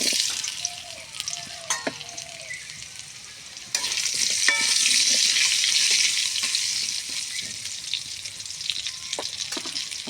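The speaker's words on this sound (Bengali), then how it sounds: "আলুটা একটু ভাজা ভাজা করে নেব।" Potatoes frying in hot oil with whole spices (panch phoron, dried red chilli, garam masala, bay leaf) for a cauliflower-potato curry, a steady loud sizzle that swells midway, with stirring scrapes and clinks throughout.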